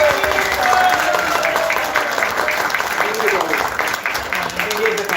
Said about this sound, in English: So please give them big round of applause.